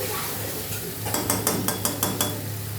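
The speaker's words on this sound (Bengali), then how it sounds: "তারপর নাড়াচাড়া করে নেব।" A spoon stirs curry ingredients with a little water in a pan, giving a series of quick, close scraping clinks over a steady low hum, with no talk.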